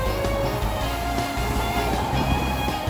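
An Odakyu Line 4000 series commuter train, built with a front emergency door for Tokyo Metro Chiyoda Line through-running, rumbles steadily nearby with a continuous rolling roar and faint rail clatter.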